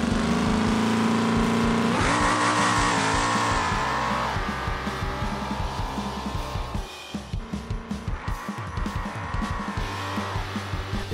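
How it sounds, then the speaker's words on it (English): Racing car in the BeamNG video game launches down a drag strip with wheelspin off the line, engine roaring loud and close, then rising through rapid rhythmic gear pulses. "We're getting a little spin off the line, but it's straight down the lane after that"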